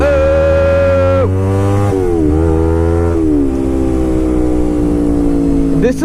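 A Kawasaki Ninja 250 motorcycle engine revs loudly and close, its pitch climbing and dropping through several gear changes over steady engine drone.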